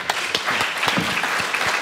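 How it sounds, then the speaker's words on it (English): A room full of people applauding at an industry summit, dense steady clapping that carries on evenly from start to finish, fairly loud. "Let's have a round of applause for our group"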